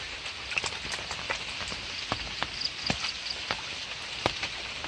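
Rain falling on a pond during the rainy season, a steady soft patter with scattered sharper drops and splashes, close and fairly quiet, no voices.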